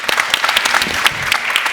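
A room of conference attendees at a panel on civil society and democracy breaks into applause, a loud, dense patter of clapping hands with distinct sharp claps standing out throughout.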